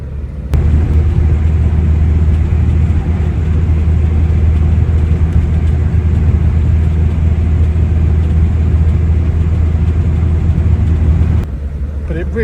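A restored 1968 Morris Traveller's engine drones low and steady while driving, loud and close from inside the car, holding an even rumble before easing off at the end.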